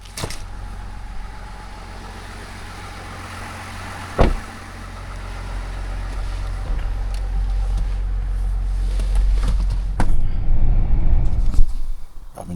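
A car idles and then pulls away on a calm, windless Missouri morning, its engine swelling nearer and louder before fading, with a sharp thump early on.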